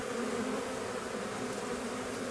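Honeybees from the season's first swarm fan and buzz around a small nucleus hive, making a continuous, even drone that stays steady and fairly close for the whole stretch, with no talking.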